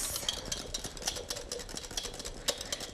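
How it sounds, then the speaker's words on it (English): A whisk beating coconut oil into cold pumpkin pie filling in a bowl, with fast, steady metallic ticks and scrapes at a brisk rhythm, close and fairly quiet with no talking. "you can slowly whisk this in, but whisk at a pretty brisk pace"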